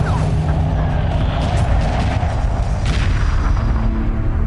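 A hyperspace gate explodes in Homeworld 2 Remastered amid space battle, a heavy sustained boom with rumbling blasts and crackling debris layered over dense combat noise.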